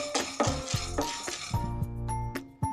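Chana dal and urad dal roast in a pan as a spoon stirs them, giving quick metallic scrapes and clinks over a faint dry sizzle, close and without talk.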